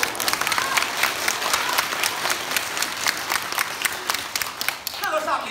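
A live crosstalk comedy audience breaks into brisk, sustained applause, the crisp claps filling the room before easing off, with a brief voice near the end.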